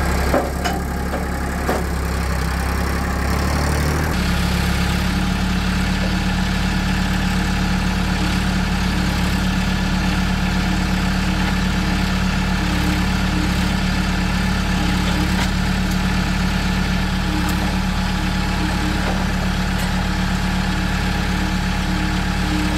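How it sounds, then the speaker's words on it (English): Tractor engine idling in a shop while a Dana 70 front axle is being worked on; a steady, loud diesel rumble with a faint knock, shifting to a lower steady drone after a few seconds and running on unchanged. "let's grab the tractor"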